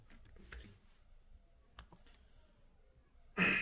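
A computer keyboard being typed on to enter a password, a few faint scattered key clicks spread out at a slow pace, ending with a louder burst of noise.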